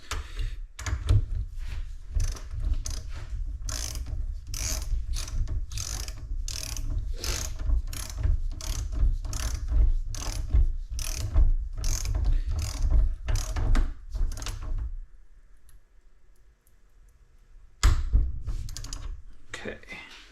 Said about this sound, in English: And this gets torqued down to 27 foot-pounds.